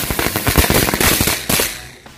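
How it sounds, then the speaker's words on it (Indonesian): Lotus flower firecrackers crackle in a rapid, dense string of loud sharp pops, the bursts thinning out and fading near the end. "Yang selanjutnya kita nyalakan mercon bunga teratai"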